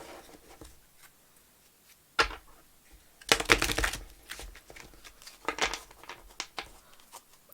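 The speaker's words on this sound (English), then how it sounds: "We're going to accept reverse cards as well, so I'm gonna shuffle them in the opposite direction as well." Tarot cards are shuffled by hand in several crisp, rustling bursts separated by quiet pauses, near and fairly loud.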